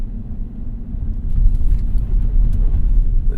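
Inside a 2025 Ram 1500 Rebel X pickup while driving, a low, steady road rumble and muffled drone fill the quiet cabin, with no one speaking.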